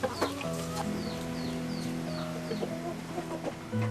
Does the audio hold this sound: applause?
no